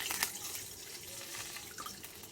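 Water splashing and trickling steadily into a pan for sugar syrup, fairly quiet, with a brief louder splash at the start.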